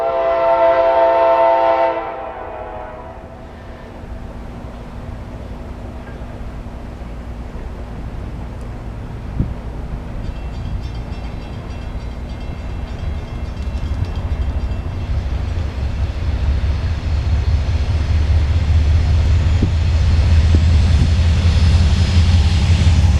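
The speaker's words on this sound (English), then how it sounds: "got a train coming." A Norfolk Southern southbound coal train in Marion, Ohio sounds its horn briefly at the start, then rumbles past steadily with a rising heavy roll of wheels and cars, loud and close.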